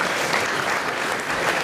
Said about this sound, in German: Gleich noch einen Applaus hinterher für den Bürgermeister von morgen.